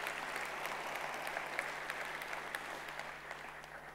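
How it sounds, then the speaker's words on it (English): Applause from a gathered audience at a company event, a sustained, moderately quiet patter of many hands clapping with a faint steady hum underneath. "we should all give them a huge round of applause for that while we're here"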